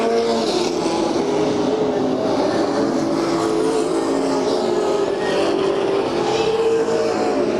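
Race cars in a Budweiser Racing Series event roar around the Bakersfield, California track, the engines loud and sustained as the pack sweeps through the turns, with a pass building and fading.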